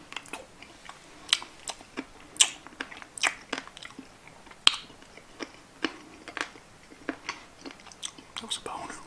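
Buffalo wings bitten and chewed close to the mouth, wet crunchy bites with sharp clicks against a bone, irregular and intimate, with no talking.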